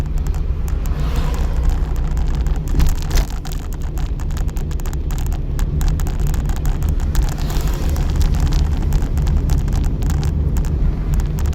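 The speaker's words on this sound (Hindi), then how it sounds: "तो कैसे आवाज़ आ रही है टायरों की भी।" A car's tyres roar on the road while driving, a steady low rumble with broadband road noise that holds at an even, fairly loud level throughout, with no talking.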